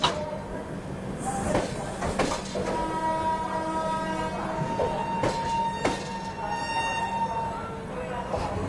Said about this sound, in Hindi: सामने से निकल रही है दिल्ली हज़रत निज़ामुद्दीन से चलकर हुबली को जाने वाली सुपरफास्ट